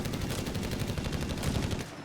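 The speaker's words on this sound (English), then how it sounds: "We got some shooty bang bang up in the northern end here" Rapid, evenly spaced machine gun bursts from a battle in the strategy game Company of Heroes 3, loud and steady for about two seconds before tapering off, with no talk.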